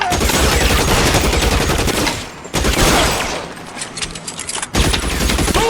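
Dense gunfire in L.A. Noire, a 1940s Los Angeles crime game, as loud rapid automatic bursts and shots hammer almost without pause, with two brief lulls between volleys.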